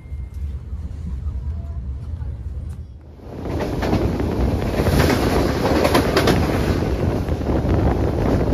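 Bengawan economy-class passenger train running along the rails, a steady rumble and rattle that grows louder and fuller after a quieter opening, with wind noise over it.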